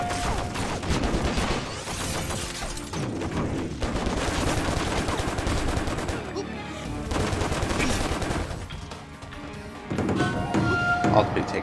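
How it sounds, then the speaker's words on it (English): Light machine gun fire in the action video game Stranglehold, dense rapid bursts with brief pauses between them, loud and close, mixed with game effects and a voice talking over it. "Is that a fucking light machine gun?"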